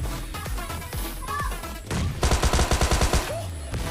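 A shooting video game sets off scattered gunshots and a grenade blast, then a rapid burst of automatic gunfire with evenly spaced sharp cracks, all loud and close with no talk.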